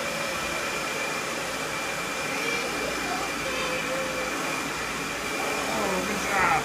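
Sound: vacuum cleaner running

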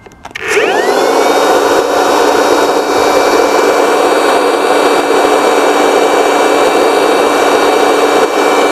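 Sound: cordless handheld leaf blower blowing air

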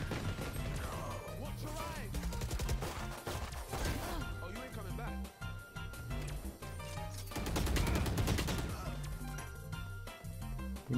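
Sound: gunfire in the video game Valorant

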